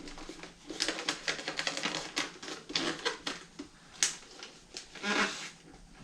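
Gift wrapping paper being folded around a box, a close run of crisp crinkles, taps and rustling bursts in an uneven rhythm with no talking.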